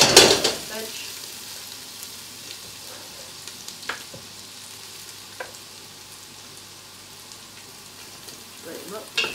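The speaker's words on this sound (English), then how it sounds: "We're going to sweat the onions down a little bit" Onions sweating in duck fat in a pan, a soft steady sizzle broken by a loud clatter of ingredients at the start, a few stirring knocks midway, and more clatter at the end.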